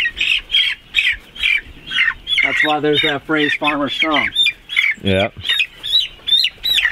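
Farm chickens squawk and cluck in quick repeated bursts close by, with a voice talking over part of the commotion.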